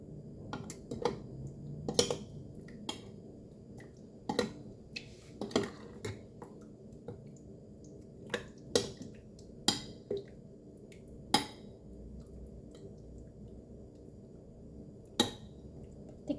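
A utensil stirs chicken liver steak ingredients in a pan, giving scattered clinks and taps of metal against metal over a steady low kitchen background, with no talk.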